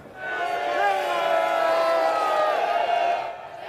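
Street march crowd cheering, a sustained loud chorus of many voices shouting together for a few seconds before tapering off.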